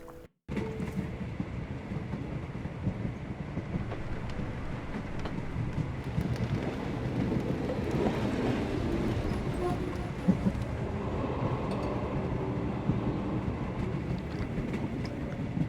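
Train travelling in the video game Sherlock Holmes The Awakened (2023 remake): a steady rumbling rail roll with faint clickety-clack and wind-like rush, continuous and moderately quiet after an abrupt start.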